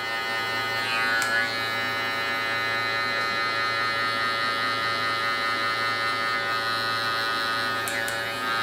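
Electric hair clippers buzz steadily and close up while detailing a mid taper haircut, the blade corner working over a back taper with a constant mains-like drone and a couple of brief tonal shifts as the clipper angle changes.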